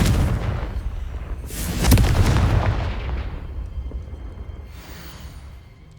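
A Confringo explosive spell detonates in the Hogwarts Legacy video game, a deep rumbling boom with a sharp blast at the peak, then a long rolling decay fading into the distance.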